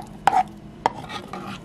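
Honey stirred into an egg diet mixture in a bowl, two sharp utensil knocks followed by soft scraping strokes, close and clear with no voice.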